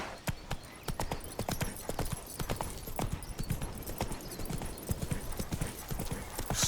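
Roach, a horse in The Witcher 3 video game, gallops in a fast, steady clip-clop of hooves, loud and close, with the rhythm running the whole time.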